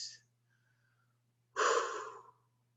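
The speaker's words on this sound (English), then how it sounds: "Do some nice breathing." A person releases a deep breath during a clench-and-release relaxation exercise, a single soft breathy exhale that swells and fades over about a second after a faint short breath and a quiet pause.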